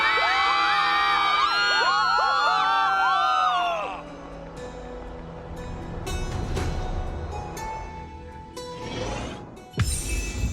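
A crowd in the video game Honkai: Star Rail cheers and yells loudly as a mass of overlapping voices for about four seconds, then drops to a murmuring din, ending with a sharp burst.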